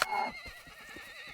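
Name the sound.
horse neighing in Rising World video game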